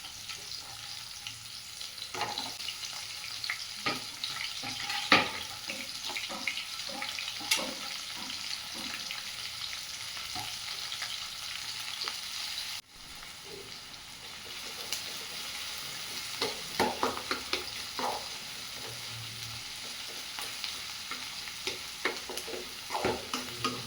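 Chopped onions sizzle in the same hot oil used to fry potatoes for a Bengali-style chow mein, a continuous moderate hiss broken by frequent scraping stirs and clinks, with no talking.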